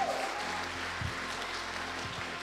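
Congregation applauding at a church service, a steady wash of clapping filling the whole stretch at even loudness, with a faint voice briefly rising near the start.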